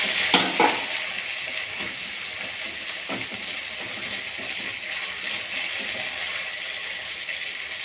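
Curry leaves and small prawns frying in hot oil for sundakkai vatha kuzhambu give off a steady, close sizzle with a brief stir near the start.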